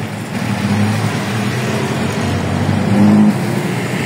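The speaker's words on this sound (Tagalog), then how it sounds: "Traffic." Steady road traffic on a congested street in the Philippines, with a continuous low engine rumble from cars and trucks idling and creeping along, fairly close and loud throughout, with a slight swell near the end.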